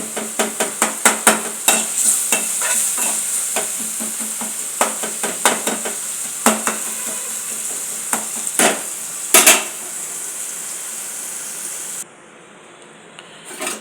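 Tomatoes being smashed and stirred in a sizzling pan for a chicken dish, with a steady frying hiss under a run of rapid scraping and tapping strokes that slow and thin out near the end.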